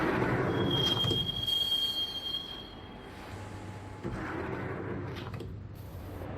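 Max Payne subway train ride in the Xbox game, a steady rumbling roll with a long thin wheel squeal early on and lower clattering swells later, continuous and close with no talk.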